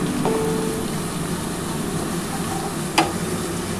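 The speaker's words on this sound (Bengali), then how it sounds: "দেখো, আমার পেঁয়াজটা কিন্তু ভাজা হয়ে এসছে। এবার আমি কিন্তু চিকেনটা দেবো।" Chicken pieces hit a pan of browned fried onions and sizzle with a steady, close hiss, broken by one brief clink of a utensil near the end.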